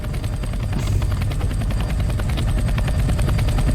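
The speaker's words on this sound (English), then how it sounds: "That's our helicopter, okay." A steady, loud Roblox video game helicopter with rotor thumps and rapid rhythmic chopping over a low engine drone, continuous throughout.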